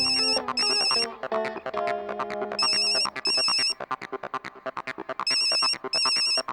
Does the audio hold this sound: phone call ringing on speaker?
yes